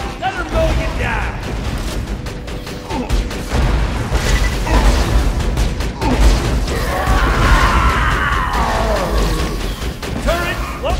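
Rapid mechanical gunfire from a deployable turret in Borderlands 2's Tiny Tina's Assault on Dragon Keep, a dense continuous clatter and booms filling the scene, with excited voices and effects layered over it.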